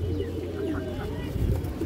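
A female pigeon of an old breed gives soft, low cooing calls close by, a short burst of murmuring coos over a faint background.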